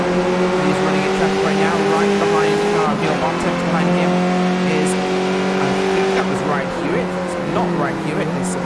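Dave Kirkman's number 88 race car at Lime Rock is heard from onboard, its engine a constant high, droning whine that rises and dips with shifts through traffic and the chicane, with a commentator talking over it.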